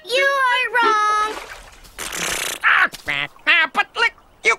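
A cartoon duck quacks out a song, a run of nasal, honking quack notes sung in a rhythmic string. A bright voiced phrase and a breathy noise burst come first.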